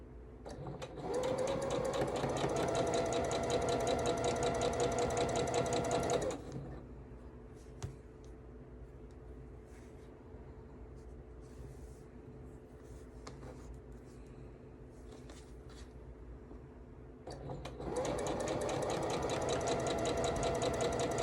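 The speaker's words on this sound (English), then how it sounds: "We're sewing corner to corner." Sewing machine stitching quilt fabric corner to corner, a steady, loud mechanical whir that runs for about six seconds, pauses through quieter room noise, then starts again near the end.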